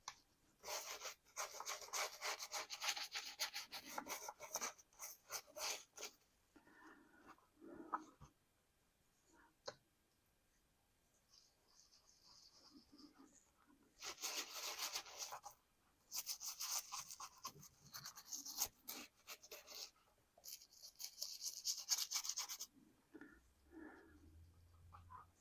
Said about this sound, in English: Gotta love old toothbrushes.